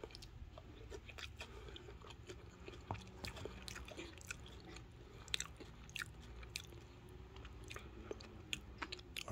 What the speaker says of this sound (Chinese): 我再吃看这个配菜啊